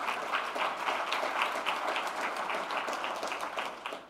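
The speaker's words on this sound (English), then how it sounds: "let's join in a round of applause to welcome Dr." An audience applauds to welcome a pharmacologist to the stage, with steady, moderately distant clapping that holds evenly for several seconds before tapering at the end.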